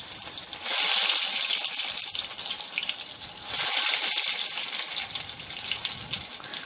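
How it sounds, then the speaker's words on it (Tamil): Soya chunk cutlets frying in hot oil in a kadai, a steady broadband sizzle that swells loud around the middle and again later, continuous with no talk. "இப்போ ரெடி பண்ணி வச்ச கட்லெட்டை போட்டு நம்ம பொரிச்சு எடுத்துக்கலாம்"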